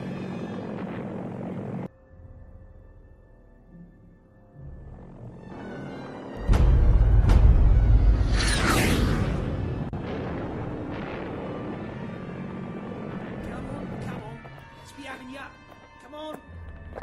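A V-1 Doodlebug cruise missile flies with a droning, buzzing engine that swells into a loud roar and then fades, as someone narrates over it.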